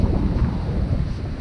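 Surf breaks on the beach at Dor with strong wind buffeting the microphone, a brief loud roar of waves and gusts with no talking.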